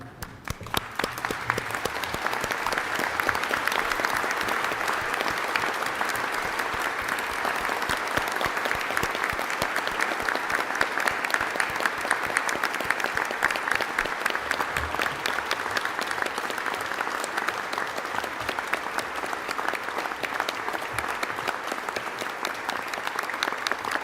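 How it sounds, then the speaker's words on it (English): Sustained applause from an audience at a graduation ceremony, honouring the graduates: dense, steady clapping that holds at an even level for the whole stretch, with no voices over it. "join with me in one last round of applause for our graduates this afternoon"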